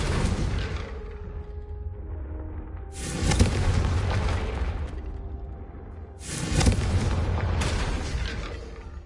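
Confringo blasting spell in a Hogwarts video game: three loud, rumbling explosive bursts with whooshing tails, spaced a few seconds apart over a low ambient background.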